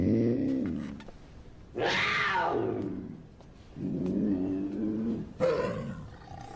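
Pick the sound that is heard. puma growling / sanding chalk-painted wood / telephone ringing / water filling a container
puma growling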